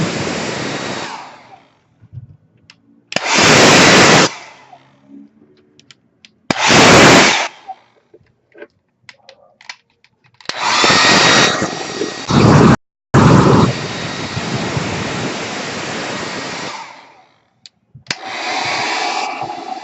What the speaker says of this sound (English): I don't know how much is going to drip off when I use the blow dryer